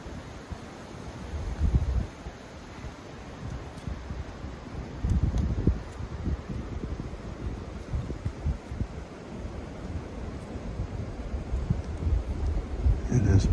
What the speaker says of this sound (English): It has been windy, that's for sure.